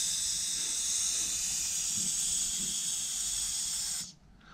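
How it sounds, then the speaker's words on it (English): An air compressor on low pressure blows off a bicycle drive chain for cleaning, giving a steady, loud, broad hiss of air for about four seconds before cutting off abruptly. "an air compressor to blow the chain off"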